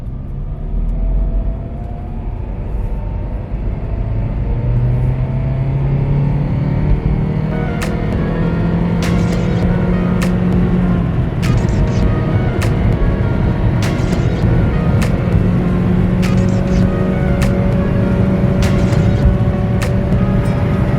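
Car with a suspected transmission or motor mount problem accelerating up to freeway speed, a steady loud engine drone and road rumble with rising and falling tones, close from inside the cabin, with a few sharp ticks near the middle.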